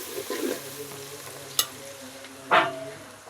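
Chana masala curry being stirred slowly in a pan, soft scraping and sizzling with a sharp metallic tap and a louder scrape of the spoon against the pan, close and unaccompanied by speech.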